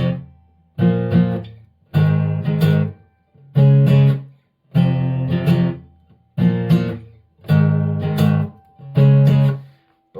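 Guitar power chords strummed down and up in short bursts with brief slides and damped gaps between them, a stop-start rhythm of seven or so loud chord blocks played close with no talking.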